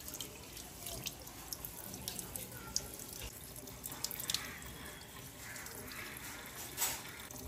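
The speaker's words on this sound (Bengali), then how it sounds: "এবার জল দিয়ে জাস্ট এটা ধুয়ে নেবো" Tap water running into a sink while lips are rinsed, a faint continuous stream with scattered splashes and drips.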